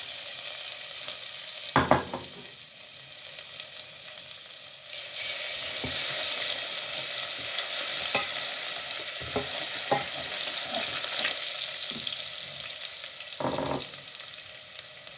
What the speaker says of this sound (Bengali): তেল গরম হয়ে গিয়েছে, আমি এখন রসুন দিয়ে দেবো